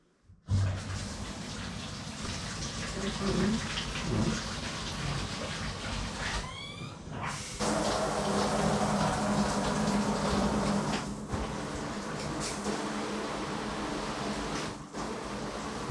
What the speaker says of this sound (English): And the new shower is installed.